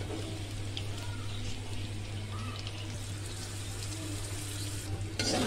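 Tomato, ginger, green chili and a pinch of asafoetida frying in a pan for cabbage ghonto: a steady, even sizzle and hiss held close throughout, with a brief clatter right at the end.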